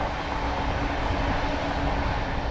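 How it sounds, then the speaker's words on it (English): A tram rolls along its tracks in Royal Park, a steady broad rumble with rail noise that stays loud and constant throughout, no voices heard. "And here comes a tram now."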